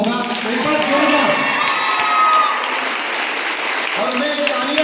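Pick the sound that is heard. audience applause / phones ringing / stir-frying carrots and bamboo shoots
audience applause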